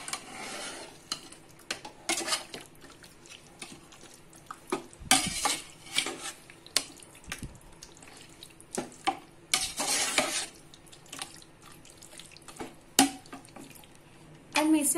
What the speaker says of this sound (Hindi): मैं इसे भी अच्छे से मिक्स कर लूंगी।